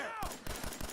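Rapid automatic gunfire in Fallout 4, a burst of four or five sharp, evenly spaced shots right after a brief voice, close and loud.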